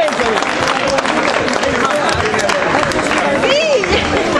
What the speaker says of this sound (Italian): Applauso per tutti e due